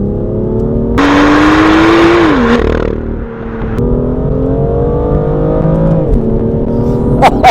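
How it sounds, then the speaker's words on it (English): A BMW M2 on an open straight road, heard from inside the car as the engine and exhaust rev up hard, hold a rising pitch through a gear, then drop and pull again with a strong droning note. "I'm going to be quiet and just listen to the car."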